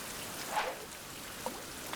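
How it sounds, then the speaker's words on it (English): Steady, soft rain hisses throughout in a survival game, with a few faint drips and light splashes rising briefly above the even patter; no one speaks. "Yeah, the rain's the best time to go fishing."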